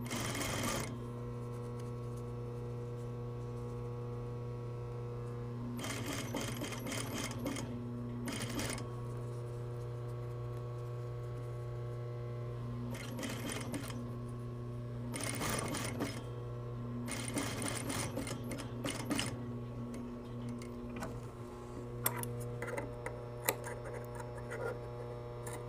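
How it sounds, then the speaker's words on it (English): A sewing machine stitches the pocket openings of yoke pants with a 1/4 inch seam allowance, a steady hum broken by several bursts of rapid, loud needle clatter, close up and alone. "With 1/4 inch seam allowance, sew the pocket openings first."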